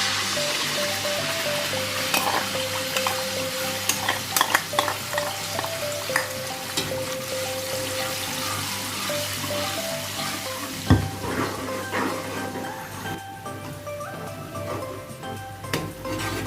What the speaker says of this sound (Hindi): ये प्याज टमाटर के पेस्ट को भूनते हुए तकरीबन हमें 2-3 मिनट हो चुके हैं।